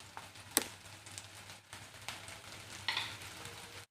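Finely chopped onion sautéing in a pan for pasta, a quiet soft sizzle with a few sharp utensil clicks and scrapes.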